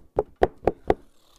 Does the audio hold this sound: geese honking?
no